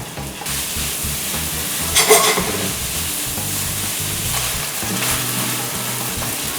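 Beaten eggs and rice fry in a very hot pan, a dense continuous sizzle with a sharp hiss flaring around the two-second mark and stirring scrapes, close up.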